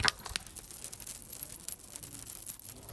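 Small gold coin charms on a dainty necklace clink and jingle softly together in a quick, faint, close-up shimmer of light metallic taps.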